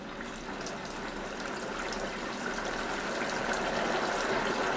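Milk hits hot oil in a home deep fryer, giving a steady, loud broadband hiss and sputter that builds slightly over about five seconds, with no voices.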